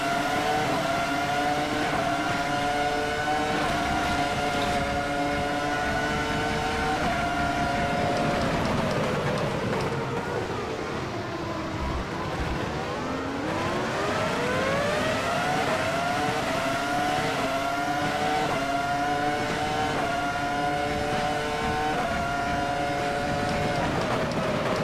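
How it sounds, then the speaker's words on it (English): Continuous high-pitched F1 V10 engine roar in the racing game Automobilista, revving with rising and falling pitch as gears shift, loud and sustained throughout. "listen to this throaty V10 engine roar on this first lap here"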